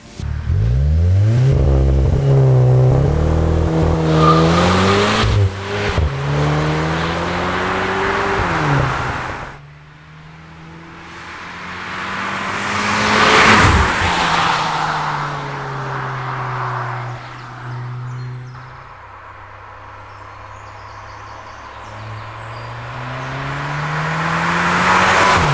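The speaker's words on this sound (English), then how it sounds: "we're driving our Golf 8 GTI with the Eisenmann exhaust" A VW Golf 8 GTI with an Eisenmann exhaust pulls hard through several gears, engine note rising in long sweeps with brief shift pauses, then easing off before building loudly again, alone without talk.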